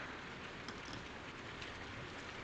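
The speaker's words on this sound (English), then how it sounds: "It's this rain, I guess." Steady rain falls outside in a 1932 film, a soft, even hiss of broadband noise with faint patter, quiet and continuous throughout with no voices.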